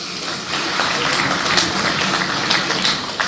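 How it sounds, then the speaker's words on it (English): An audience at a graduation ceremony for an executive intelligence management course gives sustained applause, a dense wash of clapping with sharper claps popping out from the steady roar. "Please, another round of applause for the DGSS."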